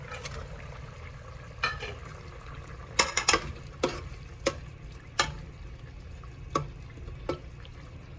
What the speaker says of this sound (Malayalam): ഇനി നമ്മൾ പൊരിച്ചു വെച്ച ചിക്കൻ അതിലേക്ക് ഇട്ട് കൊടുക്കുകയാണ്